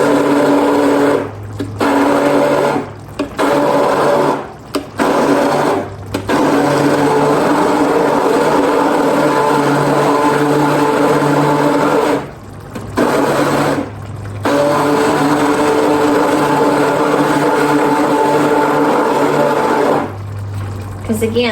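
A blender motor whirs loudly in sustained bursts while mashing beans for homemade chili, cutting out briefly several times between pulses, close and steady with no talking.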